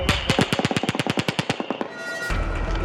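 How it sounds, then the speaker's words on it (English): A rapid burst of about twenty close automatic gunshots fires in an even stutter, then stops, leaving a ringing hum and background noise during a police incident at a traffic stop. "Dozens of bullets can be heard from the automatic gunfire."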